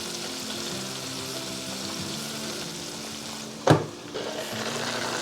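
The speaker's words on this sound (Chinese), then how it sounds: "放進油鍋裡面炸。" Vegan king oyster mushroom spare ribs deep-frying in hot oil make a steady close sizzle and crackle, with one sharp clatter near the end as the pieces are moved.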